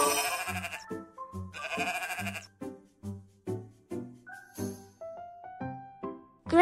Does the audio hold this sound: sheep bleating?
yes